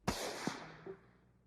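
Rifle shots, three in quick succession: a sharp first crack with a long fading tail, followed by two softer reports, somewhat distant and alone.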